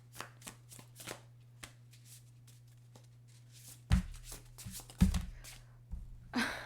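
Tarot cards are shuffled and drawn by hand in a quiet room: a run of soft riffling flicks, then a few louder slaps and rustles as single cards are pulled and set down.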